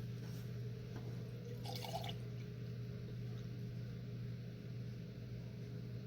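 Hot candle wax being poured into a pillar candle mold, a faint liquid trickle of about half a second over a steady low hum of room or appliance noise.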